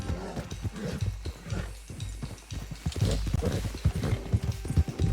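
A horse in Red Dead Redemption 2 gallops with steady, close clip-clop hoofbeats that grow louder toward the end, with little else around.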